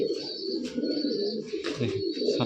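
Giribaz pigeons coo close by in a loft, with overlapping throaty, rolling calls repeating throughout and no one speaking.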